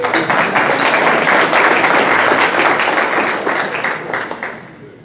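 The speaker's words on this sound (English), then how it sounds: "It's okay to clap for Wade." Audience applause at a Rotary club meeting, a loud, full burst of clapping from many hands that holds steady, then thins and tapers off toward the end.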